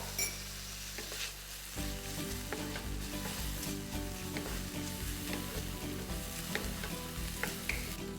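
Green chilli and tomato sauté in a hot oiled pan, giving a loud, continuous sizzle with occasional stirring scrapes and pops throughout.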